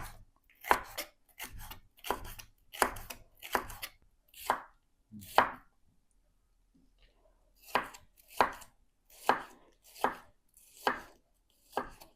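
A knife slices a bell pepper into thin strips, chopping crisply on a cutting board in a steady run of close strokes, a brief pause, then another even series of cuts.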